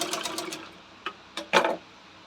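A sewing machine stitches a lined blouse in a quick rapid burst, then stops and gives a few short separate stitch pulses, close and clear, with no talking.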